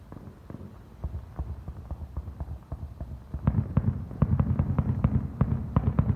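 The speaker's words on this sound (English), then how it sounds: "That was a great fireworks show." A fireworks show at the 100th annual LOUDS display, with a steady stream of distant booms and crackles that grows denser and louder toward the end.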